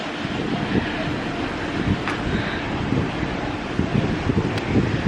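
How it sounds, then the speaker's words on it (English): Steady, roaring wind on the deck of the MSC Meraviglia cruise ship buffets the microphone throughout, a dense low rumble with gusty swells and no clear voices. "at least it's warmer than yesterday, but it's so windy."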